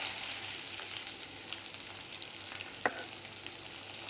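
Onion fries in a pan with golden-browned garlic for dal baati, giving a steady, bright sizzle throughout. A single sharp clink of a utensil cuts in near the end.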